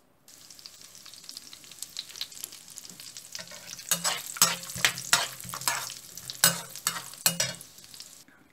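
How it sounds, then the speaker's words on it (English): Cashew nuts fry in hot oil, a steady crackling sizzle broken from midway by louder bursts of stirring and scraping against the pan, with no voices. "when it becomes hot, I'll fry the cashew nuts and remove them"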